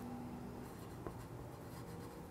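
A pen or pencil scratches across paper as an answer is written down, a faint, close, soft scraping that goes on steadily with a couple of small taps.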